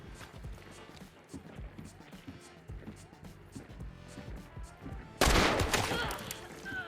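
A Scottfield pistol fires FMJ ammo in the Hunt: Showdown video game, with a series of sharp shots over other game sounds, followed by a much louder, bright burst near the end.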